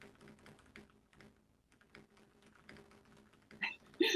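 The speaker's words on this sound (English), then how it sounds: "I can hear you typing." Light, irregular tapping of computer keys, quiet and close, continuing in short bursts with brief pauses, ending with a couple of sharper knocks.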